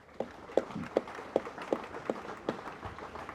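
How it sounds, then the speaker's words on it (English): Sparse applause at an EU celebration event in Harare: a few people clap in a slow, fairly regular beat, roughly eight distinct claps over a faint room murmur, moderately loud and close. "Please join me in applauding their efforts."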